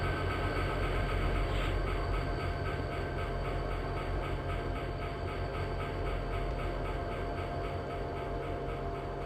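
Steady rumbling drone of a Class 57 diesel locomotive hauling a Pendolino train with its pantograph down, in the Open Rails simulator, continuous and even with a faint rhythmic wheel clatter, no voices.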